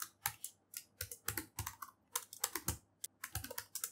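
Quick, uneven clicks of a computer keyboard as C++ code is typed, bursts of crisp keystrokes close to the microphone with short pauses between words, no voice over them.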